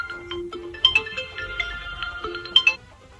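A mobile phone plays a melodic ringtone of short repeated tones, fairly close and clear, over a quiet low rumble in a rural setting.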